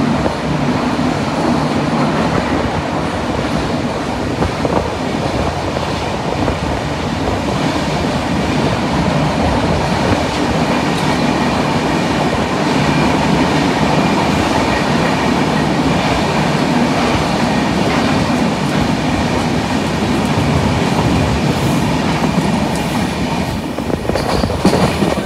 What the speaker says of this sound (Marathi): स्पीड आहे एकदम ट्रेनला